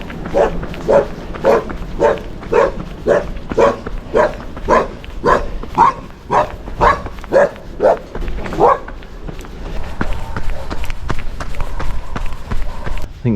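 A dog on a countryside running trail barks loudly and repeatedly at close range, about two barks per second for several seconds, then it fades into footsteps and outdoor rustle.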